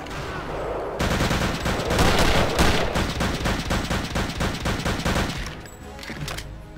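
Dense bursts of rapid gunfire rattle almost nonstop through a Return to Castle Wolfenstein co-op firefight, loud and close, then stop abruptly near the end.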